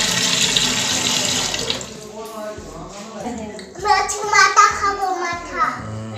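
Water runs from a tap into a sink while a fish is scrubbed and washed in a village kitchen, a steady wash under the clatter of handling, with children's voices talking over it.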